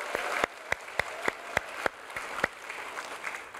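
A church congregation at a Sunday service claps in a steady, rhythmic beat, a quiet and short burst of applause with no voices over it.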